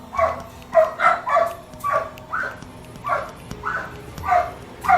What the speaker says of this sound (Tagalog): Tumatahol na din yung mga aso.